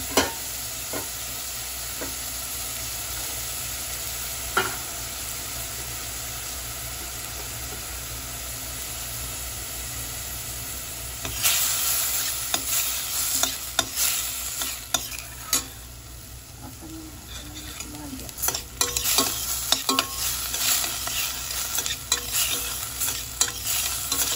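Mushrooms sautéing in a pan for pasta, a continuous loud hiss of frying with scraping and stirring that grows busier partway through, close up and without talk.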